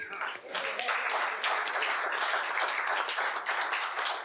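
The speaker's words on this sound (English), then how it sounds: "One more round of applause for them." Applause from an audience at a school assembly, dense steady clapping filling the room at a constant level for several seconds, with no voices standing out.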